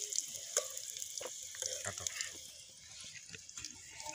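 Potatoes crackle and sizzle in hot oil while being cooked outdoors in a field, a steady frying hiss with light scraping and stirring, and someone talking over it.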